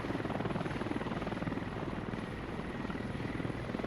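A helicopter flies low over treetops, its rotor blades thudding in a rapid, even pulse beneath a dense, loud roar that stays constant throughout.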